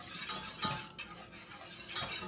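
A whisk stirs milk into a thickening sauce in a pan for au gratin potatoes, with a few quiet metallic scrapes and clinks against the pan at irregular intervals, close and soft, with no talking.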